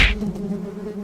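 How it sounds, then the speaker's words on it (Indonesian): Wasps buzzing around a nest give a steady, low droning hum close by, opening with a brief sharp click before the buzz carries on evenly, with no voices. "Adip disengat tawon, Bu."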